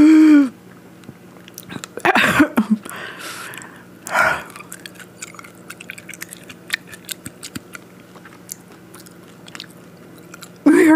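Close-up crunching and chewing of a crisp grasshopper dressed in Carolina Reaper sauce, a few loud crunchy bites early on, then softer wet chewing clicks, with brief vocal sounds at the start and end.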